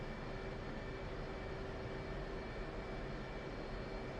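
An aircraft taxis in the DCS flight simulator game, producing a faint, steady engine hum and whine that stays even throughout, with no speech.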